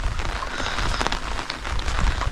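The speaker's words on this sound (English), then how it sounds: "It's been raining. Lots and lots of rain, as you can see." Rain falling in Lang Lang, Victoria, a steady close hiss of drops with scattered patters on nearby surfaces, continuous and fairly loud throughout, with no talking.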